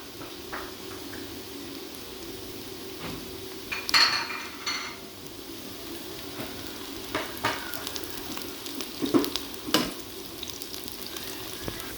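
Onion and whole spices fry in a pot for mutton dum pukht, a steady sizzle running throughout, broken by several clanks and scrapes of a spoon or ladle against the metal.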